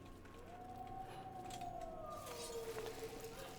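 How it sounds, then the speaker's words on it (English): A long, wavering tonal howl rises and slowly falls, sustained over a steady ambient bed in the fantasy video game Soulframe. "Nope, I hear that howl."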